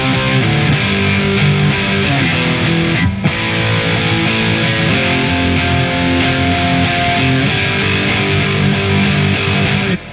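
Distorted electric guitar plays slowly through the second part of the chorus of a song, ringing chords and held notes for about ten seconds, loud and close, no speech.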